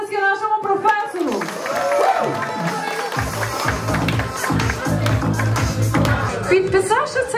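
Guests at a Ukrainian wedding celebration break into applause. A speaking voice comes first, then a steady burst of many hands clapping together carries on over crowd murmur.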